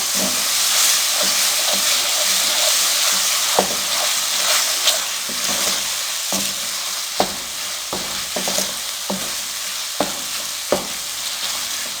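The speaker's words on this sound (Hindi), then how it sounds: "अब इसमें अदरक और लहसुन का पेस्ट डाल देंगे।" A steady loud sizzle of ginger garlic paste frying in a hot pan, with occasional sharp pops and scraping stirs, close up and without talking.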